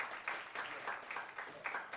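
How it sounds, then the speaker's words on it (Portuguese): Church congregation applauding during a sermon, a fairly faint but continuous wash of clapping hands with rhythmic surges, sounding somewhat distant and roomy, with no voices over it. "Você pode aplaudir Jesus pela misericórdia."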